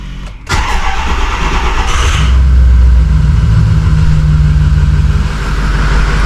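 A Ford 6.0 Powerstroke diesel cranks and catches after a fuel filter replacement, then settles into a loud, steady, close-up idle with a deep low rumble that runs unbroken to the end.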